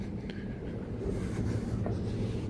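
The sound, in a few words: metro train in Lyon Part-Dieu station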